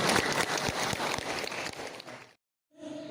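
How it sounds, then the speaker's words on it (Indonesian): Applause from a school workshop audience for a couple of seconds, dense and fairly close, then a sudden drop to silence before faint room noise returns. "Jadi tepuk tangan dulu buat SMKN 1 Talang Padang."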